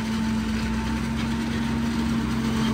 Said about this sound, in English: 1500 RPM, and it's a different sound and feel for Christoph